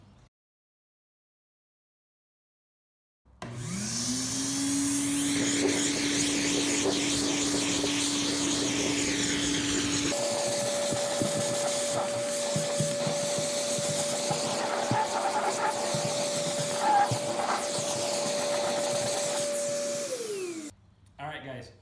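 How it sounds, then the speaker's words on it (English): A vacuum cleaner working over bass boat carpet, starting after a few seconds of silence with a steady whining motor that shifts to a higher pitch midway, then winds down at the end, with a voice speaking over it. "just did a very thorough vacuuming"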